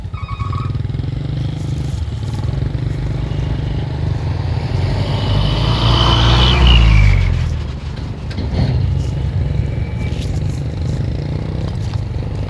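Heavy road traffic passes close by on a highway near Takalar, South Sulawesi, a loud vehicle swelling to a peak around mid-clip then fading, with continuous engine rumble throughout.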